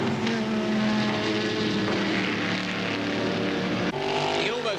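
Racing engines roar continuously down the straight at Eastern Creek during an Australian Drivers Championship event, a loud sustained drone with a shift in pitch near the end as cars pass.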